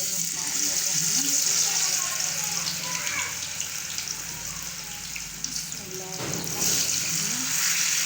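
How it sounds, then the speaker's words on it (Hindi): Fish pakora pieces drop into hot oil and fry with a steady, close sizzle and bubbling that rises and flares near the end, while a person talks over it. "अभी हमारा तेल गर्म हो चुका है। अभी हम मछली बीच में डालेंगे।"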